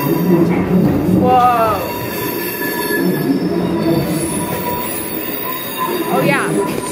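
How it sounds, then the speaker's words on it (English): A train between Milan and Como rumbles past nearby, wheels squealing sharply and metal clattering over the tracks in a steady, rolling roar. "the train was like going right over"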